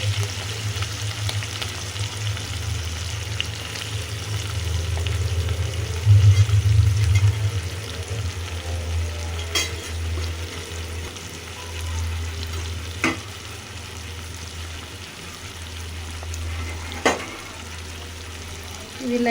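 Green chillies and onion fry in a pan for egg fry, a steady low sizzle with a constant hum beneath it and a few sharp spoon clinks against the pan.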